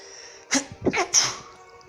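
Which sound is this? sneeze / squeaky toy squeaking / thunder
sneeze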